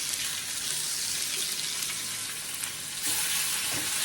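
Chicken pieces fry in oil on a tawa for a cheesy chicken dish, a steady dense sizzle throughout that swells louder near the end, close and alone with no talk.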